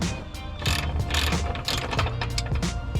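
A ratchet wrench loosening a 17 mm castle nut on a Lexus front suspension, giving a fast, continuous run of close metallic clicks over a steady mechanical background.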